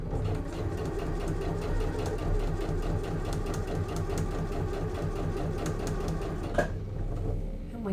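A sewing machine top stitches a fabric A5 notebook pen holder, running steadily with a rapid, even needle rhythm throughout, close and loud, with a brief click near the end as it stops.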